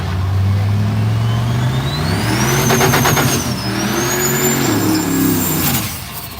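Race cars and trucks drive past at the Miles of Mayhem race, a loud engine roar that swells and sweeps by with a rising whine, close and continuous, with no talk.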